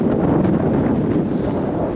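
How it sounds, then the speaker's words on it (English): Strong headwind buffets the microphone of a touring cyclist climbing a steep road near Monument Valley, producing a loud, constant low roar with no breaks. "Very steep and the wind has picked up."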